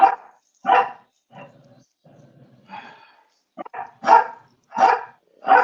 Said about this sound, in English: My dog is upset.